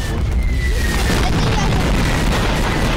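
A bomb goes off in the Garry's Mod video game, a deep rumbling boom with a roar of noise that fills the whole stretch at steady loudness. A faint rising whistle threads through early on.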